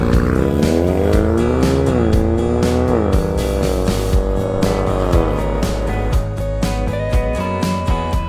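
A 2020 Ford Mustang EcoBoost with the High Performance Package accelerates hard, its engine revving up through several gear changes in a loud, close, continuous roar.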